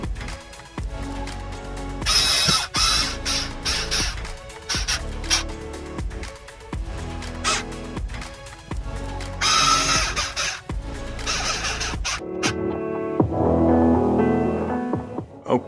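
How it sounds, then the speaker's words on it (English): Screws driven into a wall to mount a LEXENIC rubberwood floating LED shelf, heard as repeated close bursts of a power driver with clicks and rattles, then quieter handling toward the end. "start putting your screws in below"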